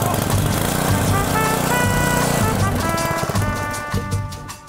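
A mini fire pump's small engine runs after repair, a loud buzzing drone at close range that holds steady before tapering off, with faint voices nearby.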